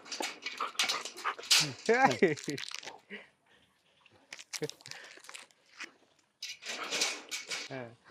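A dog whimpers and yips in high, wavering cries over rustling and crinkling, close by at a Jallikattu bull training ground, with people talking around it and quieter pauses in between.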